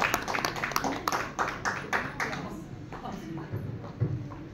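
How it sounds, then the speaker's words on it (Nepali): An audience at a stage event claps to welcome a guest. Dense, rapid applause opens the clip and then thins out as voices take over. "सबैले जोरदार तालीले उहाँलाई स्वागत गर्नु"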